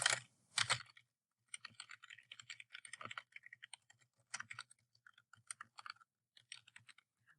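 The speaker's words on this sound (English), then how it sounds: "And then I'll begin typing." Quick, irregular keystrokes clatter on a computer keyboard close by, coming in bursts with short pauses between them.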